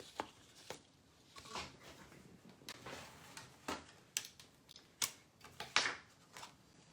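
A piece is cut out in a quiet room: scattered soft clicks and snips come irregularly and close by, growing slightly crisper toward the end, with no talk.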